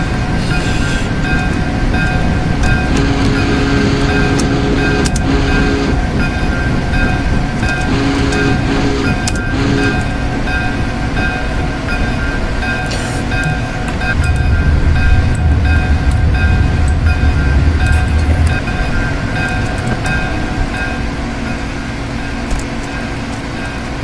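Union Pacific 3985 steam locomotive and its train rolling steadily in the Open Rails simulator on the Tehachapi Pass line, a continuous loud rumble with steady tones and a heavier low surge partway through, no voices.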